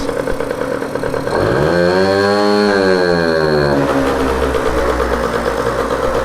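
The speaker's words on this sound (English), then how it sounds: "Now I'm gonna give it some gas." A Peugeot Fox moped engine idles loudly, then is revved up with a rising whine that holds and falls back, close and without talk.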